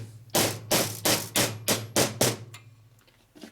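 A plastic hammer knocks on a Harley-Davidson Shovelhead motorcycle engine part during a top-end rebuild, in a quick run of about seven firm taps, close and loud, then a faint final tap.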